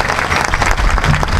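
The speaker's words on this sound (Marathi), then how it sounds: "त्या 40 मुलांसाठी सर्वांनी एकदा प्रेमानं टाळी वाजवा महाराज" Audience at a kirtan in Digras clapping together, a loud, dense burst of applause filling the whole moment with no voices over it.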